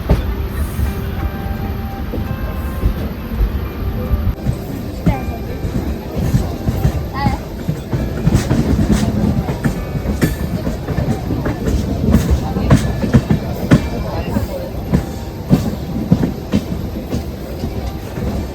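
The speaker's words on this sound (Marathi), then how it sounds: "चला आता आपण ट्रेन सुटले इथून पण कणकवलीवरून पण ट्रेन सुटले" A Jan Shatabdi train leaving Kankavli rumbles along the rails with rhythmic clacking and rattling of the carriages, loud and close from inside, a few faint voices underneath.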